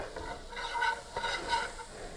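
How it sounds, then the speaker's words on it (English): Flour and butter cook together in a pan for Swedish meatballs, a soft low sizzle with gentle scraping strokes of stirring repeating every half second or so. "We're going to mix those together and let them start to cook a little bit."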